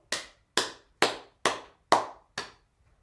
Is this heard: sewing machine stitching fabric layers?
no